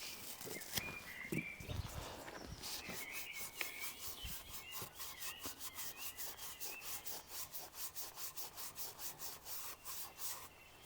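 An engine valve is lapped into the seat of a Caterpillar 428 backhoe cylinder head, giving a faint, repetitive gritty rubbing that settles into a fast back-and-forth rhythm, with a few knocks at the start.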